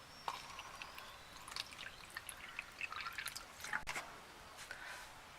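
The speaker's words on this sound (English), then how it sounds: "pour the water" Water poured onto a breadboard water level sensor makes faint, scattered drips and small trickling splashes, quiet and close, with no talking.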